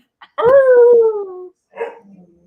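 A large 70-pound female dog lets out a long, wavering howl with rising harmonics, then a short second yelp-like vocalization after a brief pause, close and loud with no talking over it.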